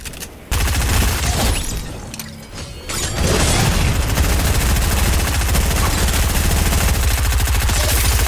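Gunfire in the battle royale video game Knockout Air Royale crackles in dense rapid bursts, loud and sustained, with a brief break before a steady rattling stream of shots continues to the end.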